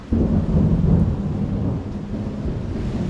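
A deep rolling rumble of thunder during a storm, loud at first and slowly fading, with rain hiss underneath.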